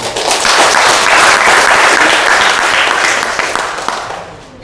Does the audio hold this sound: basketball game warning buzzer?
no